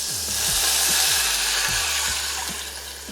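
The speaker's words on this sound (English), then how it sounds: "Put the water in." Water pours into a pot for grits, a steady loud splashing rush close by with a few low sloshing thumps as it fills, and no talking.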